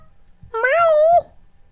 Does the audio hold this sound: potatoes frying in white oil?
no